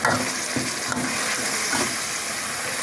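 Eel stir-fried in a pan with a splash of water gives a steady, close hiss of sizzling, with light stirring scrapes recurring through it and no talk.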